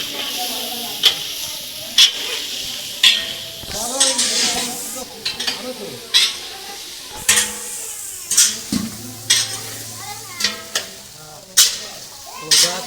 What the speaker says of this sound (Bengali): তেল চিটকাচ্ছে